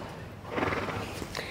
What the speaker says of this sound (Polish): Widzowie, to jest pierwszy galop tego konia.